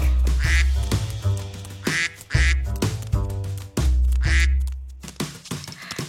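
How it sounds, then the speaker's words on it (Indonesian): Loud, repeated duck quacks in a bouncy rhythm over the musical backing of an Indonesian children's song. "Setelah lihat bebek bilang, kuek."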